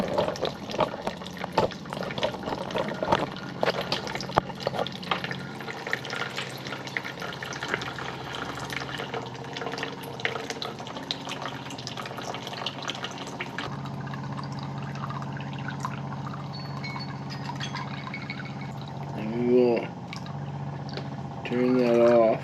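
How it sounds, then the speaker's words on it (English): Water trickles and pours steadily for a long stretch out of a portable water filter, mixed with background noise and a murmur of voices. "the clean water is coming out"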